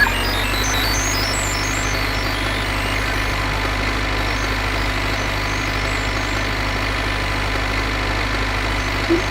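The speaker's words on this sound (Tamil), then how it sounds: "இப்படி வண்டி ஓடுது பாருங்க." A vehicle engine idles steadily with a constant low hum and mid-range drone, close and continuous, with no talk.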